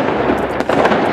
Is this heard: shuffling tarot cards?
no